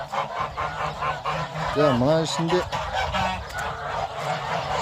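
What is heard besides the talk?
domestic geese honking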